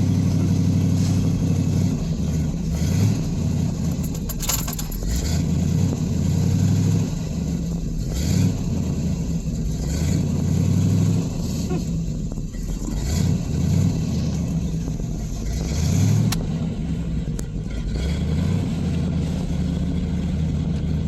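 A 1987 Toyota 4WD pickup with a small-block Chevy 355 V8 and 700R4 transmission, on a break-in cruise after a cold start, rumbles along loudly from the cab, its engine note rising and dropping repeatedly through shifts and throttle changes.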